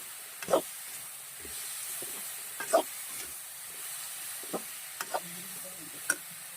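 Spices stirred while frying in a pan: a low background sizzle with scattered distinct knocks and scrapes of a spoon against the pan, close and quiet, irregularly spaced.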